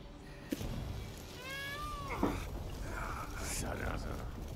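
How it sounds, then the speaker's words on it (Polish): Cats in The Witcher 3: Blood and Wine let out several clear, rising meows close by, one drawn out, with quiet voices and background game ambience underneath. "One miauczą dosłownie, nie?"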